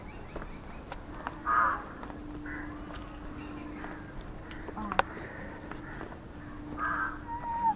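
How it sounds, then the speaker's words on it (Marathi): A crow caws a few times at a moderate distance on Durga Tekdi hill in Nigdi, Pune, short harsh calls spaced out over an outdoor background with a faint steady hum. "पक्षी वगैरे पण आहेत भरपूर एक कावळा बसला आहे"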